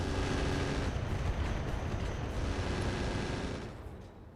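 A mech's rocket barrage in RogueTech BattleTech rumbles as a dense, steady wall of booming impacts and launches, loud throughout before tapering off near the end.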